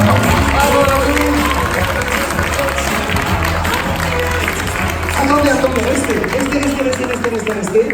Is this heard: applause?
yes